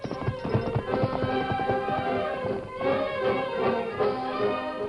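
Horse hooves clip-clop in a steady, close rhythm for a radio drama's Western scene, the trotting beat continuing alone without speech.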